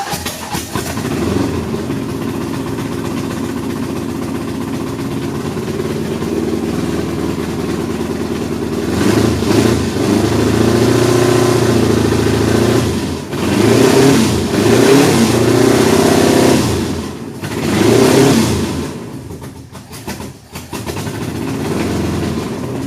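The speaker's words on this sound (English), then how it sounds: "But so Emily, the goal is basically run it to try to blow the spark plugs clean." An LS V8 swapped into a Datsun 280Z, run with bad spark plugs, idles loudly and steadily, then revs up repeatedly in rising surges before dropping back, close and raw throughout.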